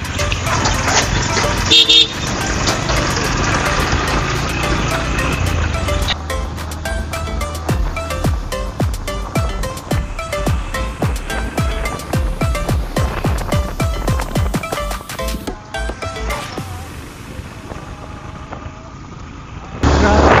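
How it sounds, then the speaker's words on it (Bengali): A motorbike rides along a winding hill road with engine drone and heavy wind buffeting the microphone, punctuated by a honking horn early on. "আমরা এখন পাহাড়ি রাস্তায় বাইক ড্রাইভ করতেছি।"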